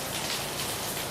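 Raindrops fall on the water at a lakeside fishing camp during a storm, a dense, steady patter close by with no talk over it.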